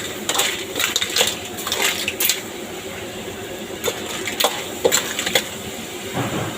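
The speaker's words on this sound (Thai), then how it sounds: "แล้วก็ผัดให้เข้าไปอีกทีนะ" Blood cockles being stir-fried in a pan, shells clinking and scraping against metal in scattered bursts, with a utensil clattering as they are tossed, close and fairly loud over a low background hiss.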